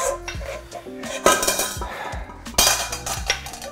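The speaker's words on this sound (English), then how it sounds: "Whisk it all together." Sweet crepe batter whisked in a bowl, close and busy: rapid clattering and scraping of the whisk against the sides in uneven bursts, with a couple of louder knocks.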